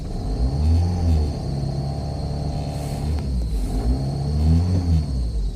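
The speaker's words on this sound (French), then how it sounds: "Donc là je vais accélérer un petit peu pour te montrer." Opel Zafira 2.0 TDI diesel engine on a cold start, revved up from idle twice in rising swells that fall back, loud and close, with a steady rumbling idle between the revs and no talking.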